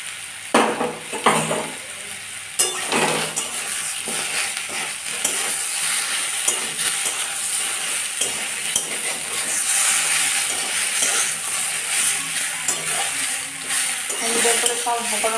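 Fried potatoes, eggplant and other vegetables are stirred with spices in a pan for shukto. A spoon scrapes repeatedly against the pan over a steady sizzle, close and clear, with no talking.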